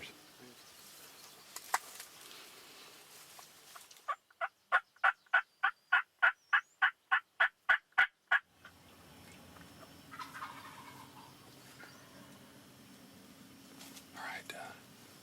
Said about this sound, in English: I got one back here gobbling now, and then 2 more came out.